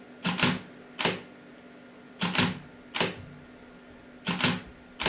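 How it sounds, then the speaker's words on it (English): Sharp mechanical shutter clicks from a Nikon D600 shooting a timelapse come in pairs and singles, spaced about a second apart with uneven gaps, crisp and close against a quiet background. "you can hear the shutter speed is slowing down, the gap between shots is getting longer"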